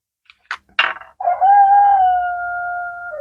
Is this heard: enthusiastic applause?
no